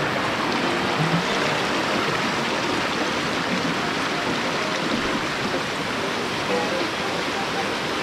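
A waterfall and stream pour and rush steadily, a loud, dense, unbroken roar of flowing water close by that fills the whole stretch without a pause.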